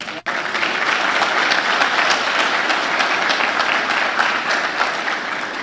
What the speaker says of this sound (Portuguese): Vamos aplaudir Jesus por isso?